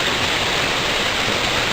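Clear water gushes out of a patented curb drainage filter into a tub, a steady, loud, broadband rush that holds an even level throughout with no pauses.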